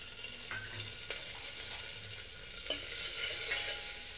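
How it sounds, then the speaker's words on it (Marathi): Chopped spinach with turmeric being stirred and sautéed in a pan over low heat, a soft continuous sizzle with occasional utensil scrapes and clinks, close and alone. "हळद टाकलेली आहे त्यामुळे आपण एक 30-40 सेकंद छान परतून घेतलेलं आहे"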